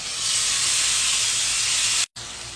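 Chicken breasts frying in oil over low heat give a steady, loud broadband sizzle that holds continuously, with a brief dropout near the end before it resumes.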